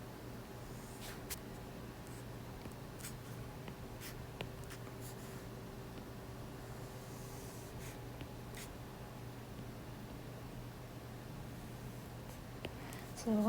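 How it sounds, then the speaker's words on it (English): A pen scratching across paper while sketching quadrant diagrams, a faint steady scratch with occasional soft taps over a constant low room hum. "So I sketch it like that."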